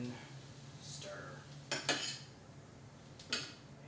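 A spoon stirs seasoning with salt and pepper in a bowl, with a few sharp metallic clinks and scrapes against the side, close and quiet against a hushed room.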